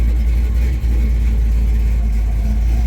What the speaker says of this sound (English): if you can't hear it, I got the car running